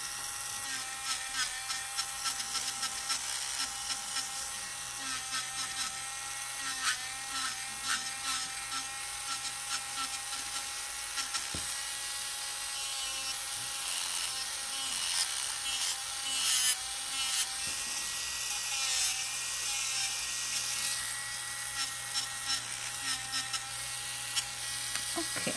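Electric nail drill filing a poly gel stiletto nail, a steady high-pitched whirring buzz running continuously and close, with slight changes in pitch as the bit presses on the nail, and no talk.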